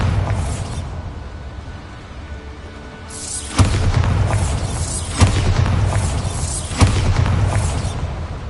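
Bombarda blasting spell explosions in the Hogwarts Legacy video game: a series of sharp, loud booms over a steady rumbling game soundscape, with three or four distinct blasts spaced about a second or two apart.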